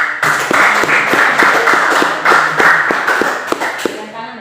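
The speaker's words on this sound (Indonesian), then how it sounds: "Kita tepuk tangan dulu." Audience clapping together at a daytime teacher-training meeting in Indonesia, a fairly loud, steady patter of many hands with sharper individual claps standing out, lasting several seconds.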